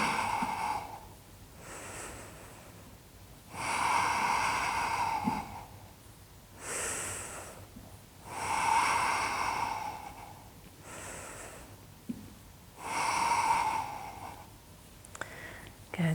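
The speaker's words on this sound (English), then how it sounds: "Lovely, deep, long breaths." Slow, deep breaths during a seated chair yoga session, each long inhale and exhale swelling and fading in a steady rhythm, close and moderately loud with no talking.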